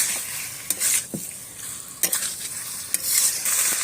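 Meat frying in a pan gets stirred with a utensil. Several scraping strokes and light clinks ride over a steady, close sizzle, with no voices.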